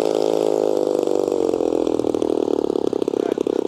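Gas engine of an Extra Utility Maxi Lift 88-inch RC airplane running rough in flight, a loud, continuous buzzing drone with a ragged, uneven pulse and no talk over it.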